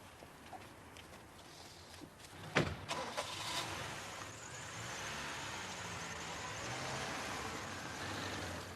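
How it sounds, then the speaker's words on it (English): A car pulls away and drives off at night outside a home, a brief knock or door thud early on, then a steady engine and road noise that lingers at moderate level with no talk. "And then Sandy drove the car, it would seem, back to his own flat in Willigarth Avenue."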